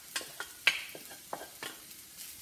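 Rice being stirred into sizzling vegetarian ingredients in a pan, with a series of distinct scraping and tapping strokes of a spoon over a faint frying hiss, close and fairly quiet.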